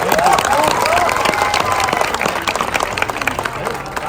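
An audience breaks into loud, sustained applause at a gathering, dense clapping from many hands close up, slowly thinning toward the end, with some voices and cheers mixed in.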